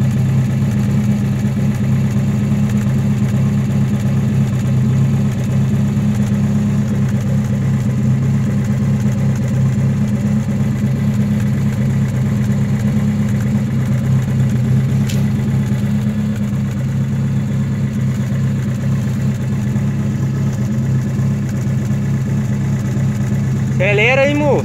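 A Chevrolet Chevette fitted with a JK muffler and a 3-inch exhaust tip idles with a steady, deep, loud rumble that holds evenly throughout, and a brief voice comes in at the very end.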